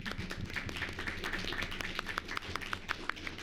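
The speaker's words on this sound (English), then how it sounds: "I don't know that we've clapped during public comment, but that certainly deserved it." Audience applause at a public utilities board meeting, a modest patter of clapping hands, fairly faint and continuous for a few seconds.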